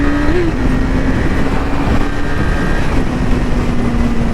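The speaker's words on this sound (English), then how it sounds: "So you guys are going to hear a lot of wind right now." A 2019 Yamaha R6 cruises at highway speed, its steady engine drone with a faint tonal whine carried under heavy, continuous wind buffeting that fills the whole stretch.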